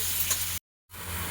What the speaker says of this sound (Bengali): সামান্য লবণ হলুদ দিয়ে ভেজে নেব।